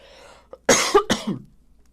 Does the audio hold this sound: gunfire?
no